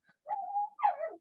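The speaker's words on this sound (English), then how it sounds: "Of course he's going to start barking now." A dachshund gives a short two-part bark-whine, close and clear against a quiet room, with no talk.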